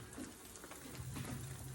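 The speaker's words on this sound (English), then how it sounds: "I'm going to wash my hands" Tap water runs steadily while hands are washed in a home kitchen, a soft, close splashing flow with small shifts as the hands move under the stream.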